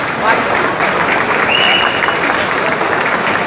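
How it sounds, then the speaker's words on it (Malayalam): A mall crowd at a film promotion event for the movie Arm at Forum Mall, Kochi, breaks into sustained, loud applause that fills the space, with a faint whistle partway through. "അതിനും ഒരു വലിയ കയ്യടി നിങ്ങൾ പ്ലീസ്"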